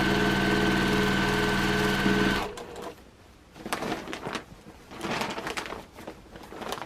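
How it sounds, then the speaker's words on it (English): A sewing machine stitching an elephant's trunk onto a paper-pieced quilt, running in a continuous steady whir for about two seconds, then giving way to quieter rustling and short handling bursts. "but I'm sewing the trunk on."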